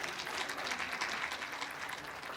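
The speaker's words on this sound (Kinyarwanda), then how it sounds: "Kigali isukuye muyikomera amashyi nyabona." Audience applause at a comedy show, a steady dense wash of clapping filling the whole stretch at moderate distance, with no voices standing out.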